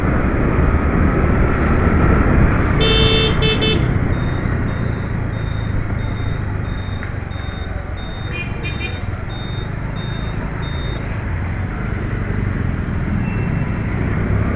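A 2018 TVS Jupiter 110 scooter ridden at night gives a continuous, loud rush of engine and wind noise with road rumble throughout, plus a short burst of high electronic beeps and a faint repeating tone.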